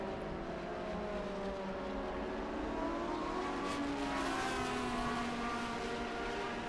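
Vintage race cars pass on the Road America circuit, several engines screaming and rising as they sweep by at a distance, with sliding pitches overlapping in a continuous loud roar and no speech.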